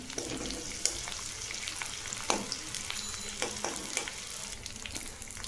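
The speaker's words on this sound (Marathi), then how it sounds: "आता आपण थोडं थोडं करून डिंक तळून घेऊ डिंक छान फुलेपर्यंत तळायचं आहे" Edible gum (dink) frying in oil in a pan over low heat for winter dry-fruit laddoos, a steady crackling sizzle with occasional sharper pops and stirring clinks, close and continuous with no talking.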